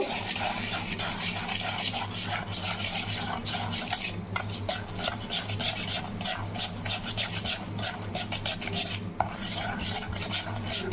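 A spoon scrapes and stirs powdered sugar into cake batter for a Christmas dry-fruit cake, a steady close gritty rubbing that runs without a break, with no voices.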